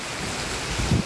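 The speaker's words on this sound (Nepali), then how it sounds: "पानी एकदम झरी परिरहेको छ" Heavy rain pours down around a shelter beneath a bridge, a loud, steady rushing wash with a gusty, windy character and a low thump near the end.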